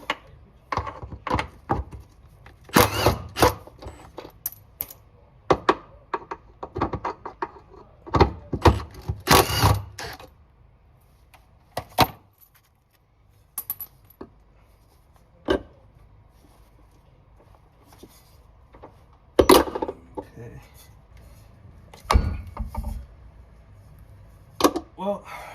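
Removing the center bearing from a BMW E46 driveshaft on a right-hand-drive car: scattered metallic clunks, scrapes and sharp knocks of tools and parts coming irregularly, with quiet gaps between them and occasional speech.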